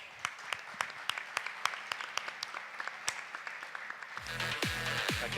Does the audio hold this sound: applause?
yes